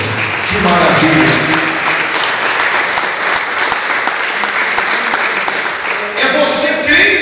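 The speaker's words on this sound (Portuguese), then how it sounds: "Vamos aplaudir ao Senhor" A church congregation applauds together in a sustained, dense burst of clapping, with voices and cheers mixed in and a brief rise near the end.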